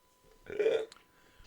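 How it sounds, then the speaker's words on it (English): A single short hiccup, a quick voiced gulp close to the microphone, stands out against a quiet background during a casual chat. "that was a hiccup, by the way"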